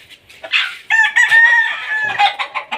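A gamecock rooster crows loud and close at a stag derby breeding farm in Bulacan, one full cock-a-doodle-doo with clucking and other fowl calls around it, and no talk.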